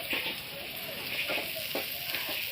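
Food sizzles in a pan while being stirred, a steady bright frying hiss with a few soft scraping stirs over the top.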